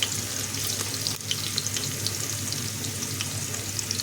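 Oil sizzles and crackles steadily as green chilies and onions fry in a pan, a continuous bright hiss with scattered pops.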